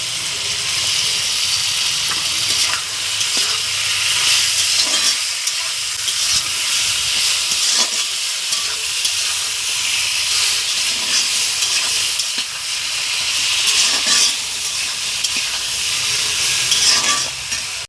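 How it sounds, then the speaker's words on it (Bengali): Poppy seed paste tipped into a hot pan for a drumstick and potato poppy-seed curry sizzles with a steady steamy hiss throughout, broken by occasional scraping stirs, loud and close with no talking. "এবার দিয়ে দেবো এই পোস্ত বাটা"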